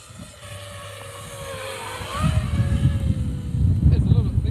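FPV cinelifter drone flying at about half throttle, a whining motor buzz with pitch sweeps that rises louder after two seconds, with people talking over it.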